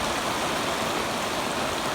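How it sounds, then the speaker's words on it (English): Rain falls over an open hayfield where newly baled hay waits for trailer loading, a steady, even hiss of drops with no pauses and no voices. "Yeah, this rains a little bit more."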